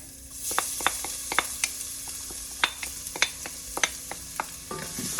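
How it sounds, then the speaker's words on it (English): Minced garlic fries in hot olive oil under a soft, continuous sizzle, while a spoon stirs through the pan with sharp scraping clicks in an uneven rhythm. "olive oil for the sauce, and then as it is getting hot little bit, we are going to put some minced garlic"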